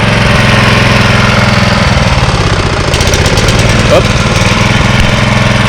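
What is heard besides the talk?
lawn mower engine idling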